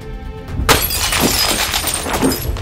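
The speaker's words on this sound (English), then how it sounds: "You'll require something heavy, such as a fire extinguisher, to cause the break. Strike the glass where it's weakest, near one of the bottom corners." A window pane struck with a heavy fire extinguisher bursts in one loud, sharp crash, followed by a bright spray of shards tinkling and scattering for a couple of seconds.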